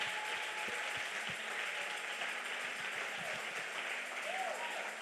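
A church congregation applauds to acclaim the Lord, a steady wash of many hands clapping at moderate distance, fairly soft, with a voice speaking over it.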